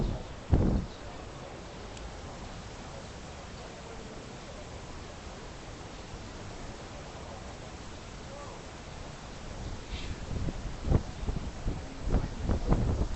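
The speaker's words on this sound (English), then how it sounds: "Whoa, windy." Steady, broad rushing wind from Typhoon Haima at Victoria Harbour, Hong Kong, buffets the microphone throughout, with occasional thumps and a voice near the end.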